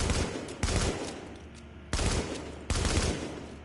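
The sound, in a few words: gunfire from a gun at the firing range in The Division video game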